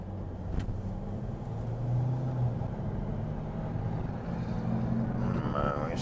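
A Mercedes ML with a suspected DPF blockage, its engine labouring and droning steadily as it tries to accelerate from a lay-by, heard from inside the car with a low, continuous hum throughout.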